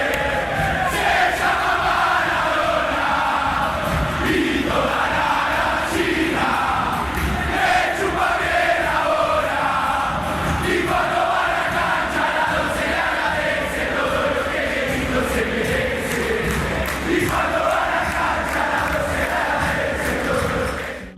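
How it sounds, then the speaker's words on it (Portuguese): Boca Juniors supporters chant their terrace song, a tribute to Diego Maradona, inside a packed stadium: a loud, dense roar of massed voices singing continuously from start to finish. "E daí surgiu essa música da torcida do Boca, em homenagem a Dom Diego e também a essa quantia de 10 pesos"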